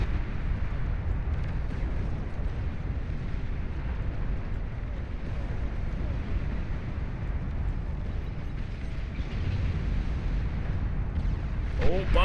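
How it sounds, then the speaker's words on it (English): Stormbringer bombs in a video game go off as a continuous, heavy, rumbling roar of explosions, loud and sustained with no clear breaks. "Bombs away in a big way"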